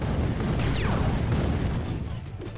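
Rapid grenade blasts from the mobile strategy game Rush Wars roll together into a dense, continuous rumble of booms and bursts, loud and close, with no talking over them.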